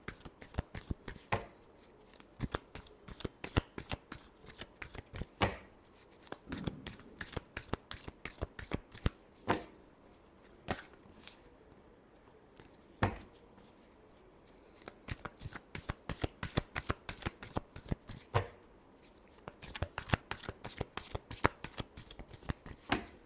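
Tarot cards are shuffled by hand in quick, crisp riffling bursts, close and dry, repeating in rapid runs with brief pauses over about twenty seconds.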